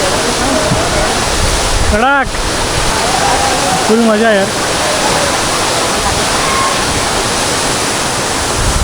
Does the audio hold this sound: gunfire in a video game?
no